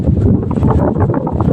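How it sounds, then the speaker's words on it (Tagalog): Strong wind buffets the microphone at an outdoor vendor's spot where goods are being loaded, producing a loud, continuous low rumble and roar with no clear talk over it. "lakas ng hangin mga big boss"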